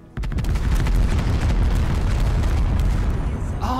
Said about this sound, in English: So this is firing full volley.